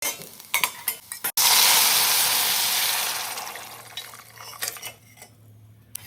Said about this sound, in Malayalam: കുറച്ച് ചെറിയ ഉള്ളി ഇട്ടിട്ട് ഒരു ലൈറ്റ് ബ്രൗൺ കളറാവുന്നവരെ സോട്ട് ചെയ്യാം